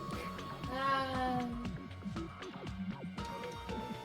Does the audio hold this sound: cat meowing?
yes